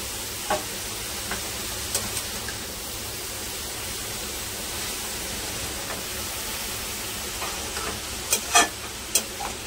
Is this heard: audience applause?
no